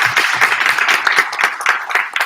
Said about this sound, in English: I think we should all give each other a round of applause on the show.